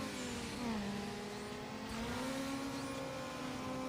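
A car engine revs in the Need for Speed Underground racing game, rising and falling in pitch as the gears shift, with a steady, mid-level drone and no one talking.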